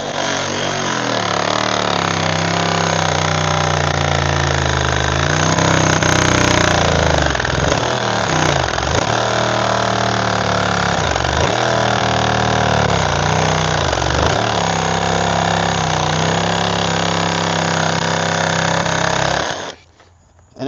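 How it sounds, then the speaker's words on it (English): A reciprocating saw cuts through roots in dirt, buzzing loud and close for about twenty seconds with repeated dips in pitch as the blade bites and bogs. It stops abruptly at the end. "that's one of the beauties of a reciprocating saw. It can go into the dirt"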